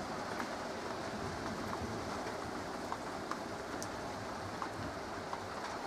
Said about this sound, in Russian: Небольшой дождик, и то очень слабый.